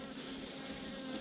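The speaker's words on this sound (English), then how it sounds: "so a few of these bees are dispersing" A dense, steady buzz of many honey bees around a hive fills the air, close and continuous, with no voices.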